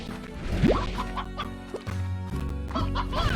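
Chickens in the video game Slime Rancher clucking close up, a busy run of short squawks and clucks over a low game background sound.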